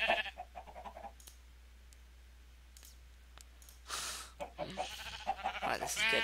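Sheep bleat in a modded survival video game set on a farm, a few short bleats mixed with clicks and game noise while someone talks over them.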